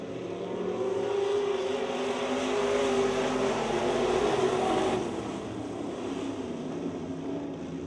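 IMCA modified race cars circling a speedway, a roaring engine drone that swells as the cars pass and then eases, heard from a moderate distance with no talking.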